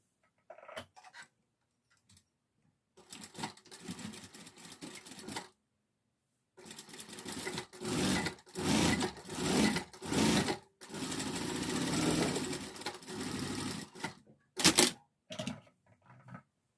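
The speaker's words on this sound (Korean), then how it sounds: "재봉을 해볼게요. 뒷다리를 박음질 할게요." Sewing machine stitching the back-leg seam of a traditional Korean saekdong patchwork child's hood, running in long rapid bursts separated by short pauses, close and steady with no talk.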